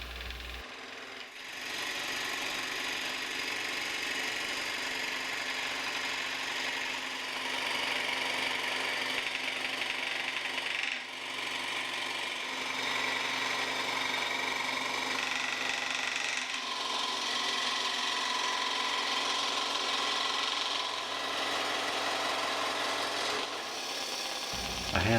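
A scroll saw blade cuts through the wooden backsplats of a child's rocking chair, a steady buzzing rasp that runs close and continuous, with a few brief breaks as the cut changes direction.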